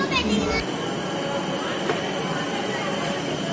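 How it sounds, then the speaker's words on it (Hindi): A metro train in Nagpur hums and rumbles steadily beside a station platform, with a brief higher-pitched tonal sound at the start giving way to continuous mechanical drone and faint background bustle. "गाइस ये है मेट्रो,"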